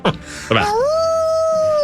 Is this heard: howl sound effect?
yes